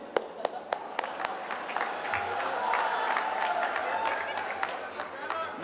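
Crowd applause at a political rally where the Karnataka Chief Minister speaks in Puttur: scattered sharp claps over a steady crowd murmur, swelling slightly mid-clip, with a voice talking underneath.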